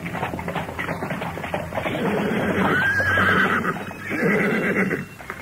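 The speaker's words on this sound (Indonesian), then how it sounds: "sebuah kereta kuda berderap di jalanan kota raja" A horse-drawn carriage moves along a royal city street, the horse whinnying loudly and close over a steady clatter and rumble, with faint hoof clops.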